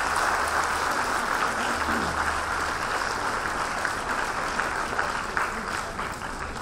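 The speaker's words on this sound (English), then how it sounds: "I would request all of you to welcome him once again with a round of applause." A lecture audience welcomes a minister with a round of applause, loud continuous clapping that holds steady throughout and tapers slightly at the end, with a faint low hum underneath.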